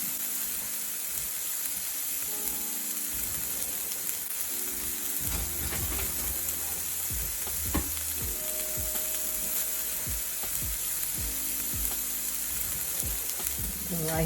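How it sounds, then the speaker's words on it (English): Ground lamb burgers frying in olive oil in a pan give a steady, quiet sizzle throughout, broken by intermittent clicks and scrapes of a spatula and cookware, with a person speaking briefly. "And I'll just let them fry a little bit."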